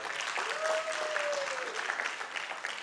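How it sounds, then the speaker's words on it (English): Crowd applause at an IIFA Awards 2019 press event, steady clapping at moderate distance, with a faint whistled or tonal glide rising above it early on. "Can you hear a louder applause?"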